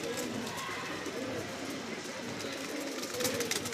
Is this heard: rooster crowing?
no